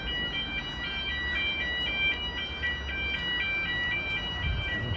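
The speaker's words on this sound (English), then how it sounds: "There's an alarm going off in this, what looks like an old goods lift." An alarm going off inside an old goods lift at Holyhead railway station, a rapid repeating electronic beeping tone pulsing steadily over a broad background hum, moderately near with no talk.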